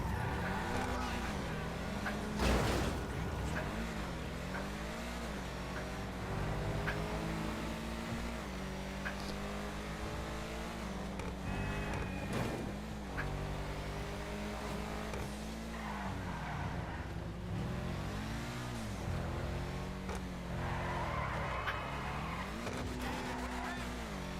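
An Übermacht Cypher car in GTA 5 Online, from the Los Santos Tuners update, drives and turns with a steady engine drone that rises and falls through gear changes, and its tires skid and squeal through the corners.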